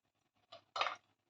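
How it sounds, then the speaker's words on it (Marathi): A spoon in a pot of cooked mixed-lentil dal, two short close scraping knocks, the second longer and louder, in an otherwise quiet kitchen. "तिला आपण थोडं घोटून घेऊया असंच चम्मचने"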